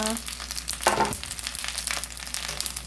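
Pollock skin drops into a very hot pan and fries, with a burst of crackling sizzle followed by steady, close frying hiss over a low hum.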